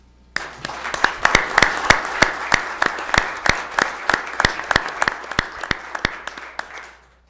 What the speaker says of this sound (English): I heard some clapping back there.